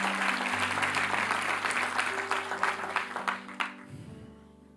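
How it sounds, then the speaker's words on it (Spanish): A church congregation applauding during a service, with dense clapping that thins into scattered claps and fades out, while sustained keyboard or organ tones ring underneath. "Denle un aplauso por favor al Señor."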